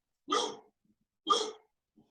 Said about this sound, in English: I have my dog absolutely going crazy over here